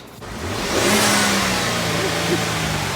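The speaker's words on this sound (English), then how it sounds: "give it a rev" A turbocharged 2015 Ford F-150 pickup engine revs up sharply, its pitch climbing into a loud, sustained turbo whine that holds steady, close and without speech.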